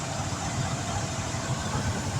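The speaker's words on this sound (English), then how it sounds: "That's a 350 engine, and it just fired this truck up." Pickup truck with a 350 engine idling just after being started in an emergency, a steady low rumbling drone with a light rhythmic knock running evenly throughout.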